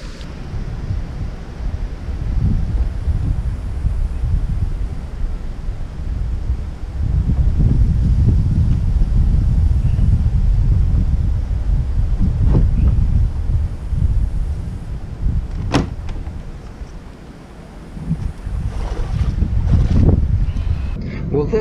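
Strong wind buffeting the microphone on a lake during a bass fishing trip, loud and continuous with low rumbling gusts, some boat and water sounds, and a few brief knocks.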